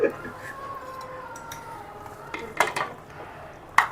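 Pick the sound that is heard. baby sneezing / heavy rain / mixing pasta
mixing pasta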